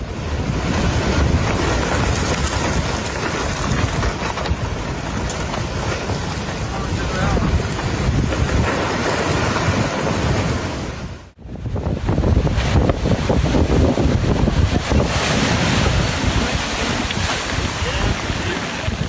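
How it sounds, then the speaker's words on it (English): Loud, continuous roar of storm waves crashing on a coast with heavy wind rumble, steady throughout apart from a brief break midway. "the waves began tearing their home apart as if it were made of paper"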